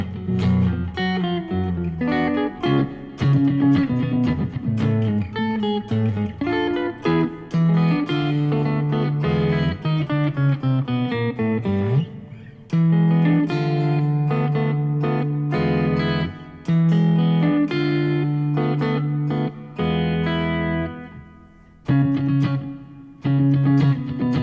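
Fingerstyle guitar plays a fast arrangement of The Stars and Stripes Forever, live: busy bass and melody notes ring steadily and loudly with brief gaps, no talking.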